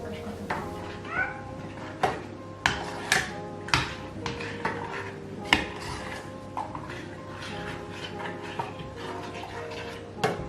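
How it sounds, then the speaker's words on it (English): A cat meows repeatedly at close range, short calls spread through the clip alongside light clinks and taps of brownie baking in a kitchen, with quiet talk in the background. "our cat wants to join us today"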